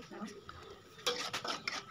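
A metal spatula scrapes and clinks against a frying pan while a blended spice paste of ginger is stir-fried for soto, with a few sharp knocks and soft background sizzle.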